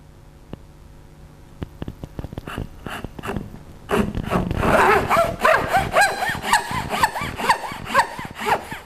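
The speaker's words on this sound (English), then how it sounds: "Cut along this line to the depth line." A hand saw cuts into wood for a half lap joint in shoji and kumiko work, starting with a few light scratchy strokes and building to a steady, loud back-and-forth rasp close to the microphone.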